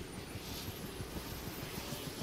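Helicopter engine in the video game DayZ drones steadily with a low rotor throb and high whine, constant and fairly close, no voices.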